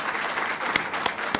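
Applause from an audience after an inaugural university lecture, a dense burst of clapping with a few sharper claps standing out, short and fairly close.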